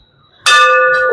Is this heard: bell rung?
yes